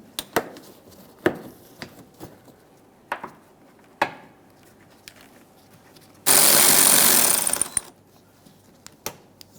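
A power tool drives a fender liner mounting bolt on a 2011-2021 Jeep Grand Cherokee in one loud, close burst lasting about a second and a half, set among scattered knocks and clicks of handling parts.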